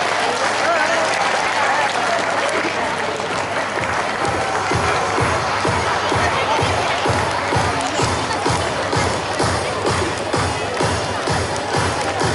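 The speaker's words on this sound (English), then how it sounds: "A huge round of applause," Schoolchildren at a retirement function clap together in a loud, rhythmic round of applause that starts after a few seconds of crowd murmur and carries on steadily to the end.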